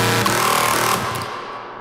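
A heavy, distorted, glitchy synth from an Ableton rack for dark techno roars as a dense, gritty burst, then fades away over a couple of seconds, with no one speaking.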